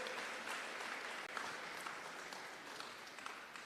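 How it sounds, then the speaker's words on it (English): An audience at a business idea event claps for student presenters, a dense even wash of applause that holds steady at moderate volume. "So give them all a big round of applause,"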